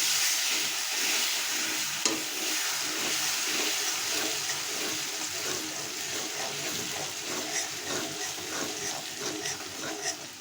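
Coconut paste fries with spices in a pan for a vegetarian mustard kochur loti dish, a steady moderate sizzle broken by repeated scraping stirs, continuous for about ten seconds without speech.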